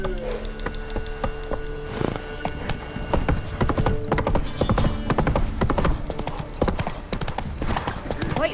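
Horse hooves clip-clop in a steady rhythmic trot in The Witcher 3, close and prominent, with voices talking over the hoofbeats.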